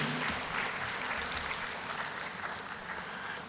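An audience at an HR conference and awards ceremony claps steadily, a fairly even wash of applause held at moderate level through the short stretch with no voices on top.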